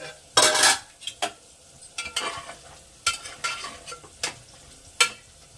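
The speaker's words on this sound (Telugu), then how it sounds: "మూత తీసి ఒకసారి కలుపుదామండి" Utensil stirring and scraping an eggplant and mutton curry in a pan, in several short bursts with sizzling between, close by and fairly loud.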